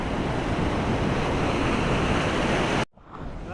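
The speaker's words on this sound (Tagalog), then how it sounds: "Laki ng alon." Big rough ocean waves and strong wind roaring loudly and continuously around a small fishing boat at sea, ending in a sudden cut to quieter water.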